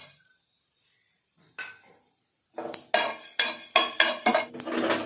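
Garlic sautéing in oil in a pan: a near-silent start, then loud rhythmic scraping stirs over a hissing sizzle, about six strokes in quick succession.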